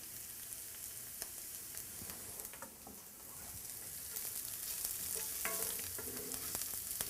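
Garlic frying in a hot pan gives a steady, close sizzle with occasional light pops and stirring scrapes, growing slightly louder toward the end, with no talking.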